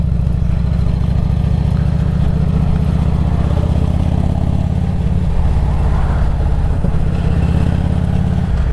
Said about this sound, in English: I'm very torn about this bike because when you're doing these sorts of roads at these sorts of speeds, then the amount of noise that you got is really lovely